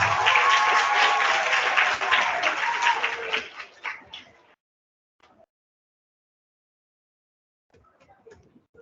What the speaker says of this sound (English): let's give our Related Arts Award winners a round of applause